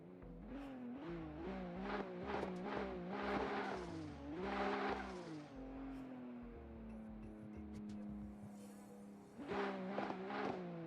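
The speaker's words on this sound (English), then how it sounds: "Hogan Cavish off the line in the GR86 with Legacy Tandems" A GR86 drift car launches off the line at Tokachi International Speedway, the engine revving hard through repeated rising and falling pulls, loud and close, with bursts of tire noise.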